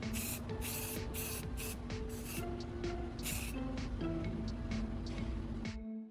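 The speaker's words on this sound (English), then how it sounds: "I'm taking some spray paint and applying an even coat over the masked area." Spray paint hissing from an aerosol can over a masked hinge repair in a carpentry job, in several short bursts followed by a longer spray, with steady mechanical clatter underneath.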